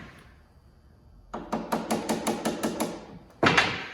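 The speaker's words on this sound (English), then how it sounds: "lightly tap it down and into place" A snowmobile bogie wheel on a Yeti Snow MX is tapped into place with a hammer: about nine quick, evenly spaced metallic knocks close up, then a louder final strike.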